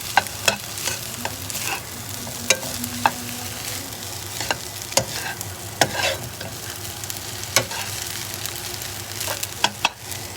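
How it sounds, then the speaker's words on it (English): Fried rice being stirred in a hot pan while it sizzles, with sharp spatula scrapes and taps at an irregular beat over a constant frying hiss, close by. "So I'm gonna stir everything together."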